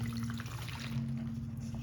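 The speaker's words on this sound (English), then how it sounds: "We're going to add your 6 ounces of warm water." Warm water pours into a plastic bag for pizza dough, a steady close trickle and splash over a low electrical hum, with no talking.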